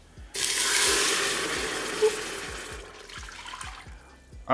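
Two and a half cups of water pour steadily into an Instant Pot for vegan veggie dogs, a loud continuous splashing rush that fades slightly before a clunk at the end.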